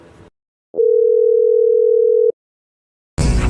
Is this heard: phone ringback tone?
yes